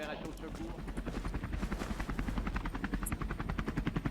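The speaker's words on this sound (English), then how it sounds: "I hear the chopper!" Helicopter in the video game KONA II Brume, its rotor chop pulsing in a fast, even rhythm that grows stronger and nearer, with someone talking over it.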